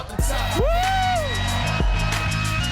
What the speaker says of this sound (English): let's give a very loud round of applause for Richard Blais